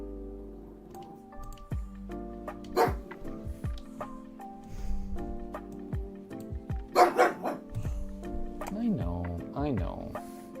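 A pet dog indoors barks and yips at noises outside the house, several loud, close barks mixed with a person talking over them.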